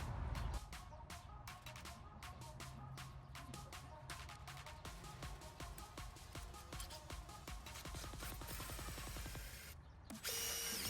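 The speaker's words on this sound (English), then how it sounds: "I'm just drilling a hole right through the mortar there, right at an angle" A power drill bores at an angle through brick mortar while a doorbell is being installed, giving a rapid series of gritty, rhythmic bursts that run continuously and close up until a brief pause near the end.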